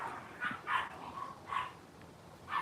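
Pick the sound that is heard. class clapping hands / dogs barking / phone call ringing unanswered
dogs barking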